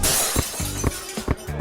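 Glass window shattering in a sharp crash, then several bright tinkling bursts of falling shards at close range, loud and with no talk.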